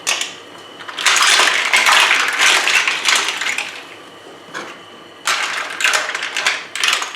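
Mussels are tossed into a pot of wine over a gas flame, giving a clattering, crackling rush of shells. Two loud stretches of rattling and sizzling are separated by a quieter hiss.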